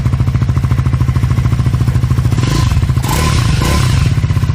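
A 2024 Triumph Scrambler 400 X engine idles, mechanically quiet, with a steady, pulsing exhaust beat, close and loud, with a brief throttle blip near the end.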